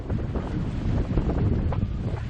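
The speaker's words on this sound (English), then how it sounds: "this is crazy windy, crazy" Strong wind roars and buffets the microphone continuously, a heavy low rumble with gusty swells, beside water.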